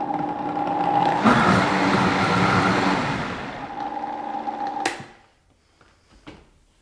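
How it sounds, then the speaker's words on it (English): Blender briefly whirring Brazil nut milk in a kitchen: a loud motor drone rises, surges at about one second, then winds down near five seconds into faint clatter and quiet, with no talking. "Blend that up briefly."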